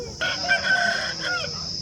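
A country rooster at a village chicken market in Mydukur gives one loud, close crow lasting over a second, with a faint trailing note after it.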